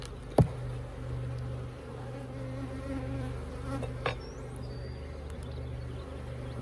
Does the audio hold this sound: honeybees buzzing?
yes